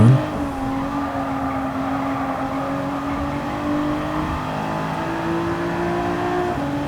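A race car in Gran Turismo 7 runs flat out down a straight, a steady, loud engine drone whose pitch climbs slowly with no speech.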